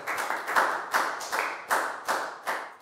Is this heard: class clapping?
yes